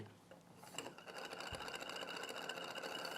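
A bead spinner turned with a needle gives a steady, fast mechanical whirr that runs continuously and fairly quietly across the clip, with a faint voice underneath.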